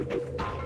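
A chicken in the Resident Evil 4 VR video game gives a short, low, throaty cluck, close and fairly loud, lasting well under a second.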